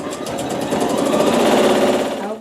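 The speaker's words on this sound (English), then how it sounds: "just hit the start button and let it do the quilting for you" A quilting machine stitches a Dresden quilt block, running steadily and fairly loud with a rapid mechanical whir that builds slightly, then stops at the end.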